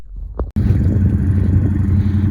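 A car engine idles steadily and close by in a garage where a car's paint is being polished, a low continuous rumble starting abruptly after a brief quiet thump and holding evenly throughout.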